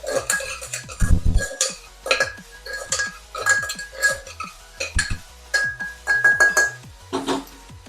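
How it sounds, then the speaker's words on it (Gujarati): Soybean curry with spices is stirred in a metal pot, giving a run of sharp, close scraping clinks and taps of the utensil against the pot in an irregular rhythm, with no speech over it. "અને ફરીથી પાછું હલાઈ નાખશું."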